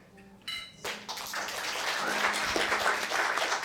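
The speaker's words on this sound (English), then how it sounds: "So huge round of applause for all of us" Audience applause at a New York music tech meetup, swelling after a few scattered claps into sustained, fairly distant clapping that fills the room and holds steady to the end.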